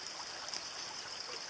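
Floodwater of the swollen San Jacinto River rushing through woods near a metal bridge, a steady even roar of flowing water with no breaks and no voices.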